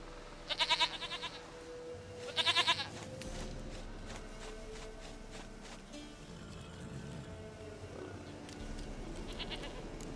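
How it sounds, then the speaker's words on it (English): Goat bleating in The Witcher 3: Wild Hunt, two loud wavering bleats in quick succession near the start, then a third quieter one near the end over a low ambient game backdrop; no speech. "Goat of mine, dearest, sweetest goat."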